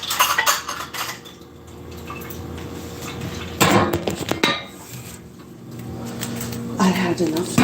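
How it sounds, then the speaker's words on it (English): Dishes are washed by hand with water running, cutlery and pots clinking and clattering in sharp bursts near the sink, with quieter stretches of flowing water between. "I had enough to clean the dishes for now"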